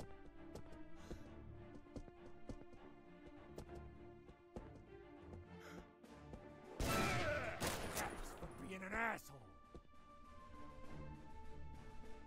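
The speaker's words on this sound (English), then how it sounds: "I thought I heard another gunshot after I fired" Gunfire in the video game Fallen Aces, a sudden loud burst of overlapping shots near the middle with a few sharp follow-up cracks, set against quiet game ambience and clicks.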